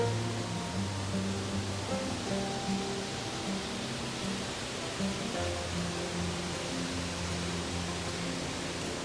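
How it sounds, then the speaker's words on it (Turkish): Turpin Falls waterfall in Victoria, Australia, a steady broadband rush of falling water heard from nearby, continuous and even throughout with faint tonal hum beneath it. "Turpin Falls'a geldik."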